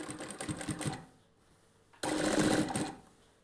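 A sewing machine stitches a nighty seam in two loud close bursts of rapid mechanical whirring, separated by a quieter pause of about a second.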